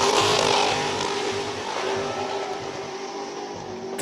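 A classic car's V8 engine revs at the Speed Classic car meet in Cape Town. It is a loud, close, continuous roar that wavers slightly, ending with a sharp burst.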